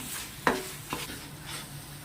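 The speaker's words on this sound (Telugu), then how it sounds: "ఇట్లా బాగా పాకం వచ్చి మొత్తం ఇది ఇందులో మిక్స్ అయ్యేంత వరకు కూడా ఇలా బాగా వేయించుకోవాలి" Carrot halwa with jaggery syrup is stirred and fried in a pan, giving a soft background sizzle and two or three quick spoon scrapes and knocks against the pan, close but subdued, with no speech.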